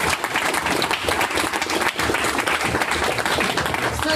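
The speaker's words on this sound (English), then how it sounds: "All right, round of applause." A meetup audience gives a round of applause after a company pitch demo, with sustained, dense clapping from a room of people that holds at an even, fairly loud level.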